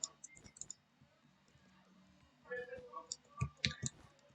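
Rapid bursts of close, sharp mouse clicks while playing Bedwars, sparse at first and then quick clusters, with soft speech murmuring in the background.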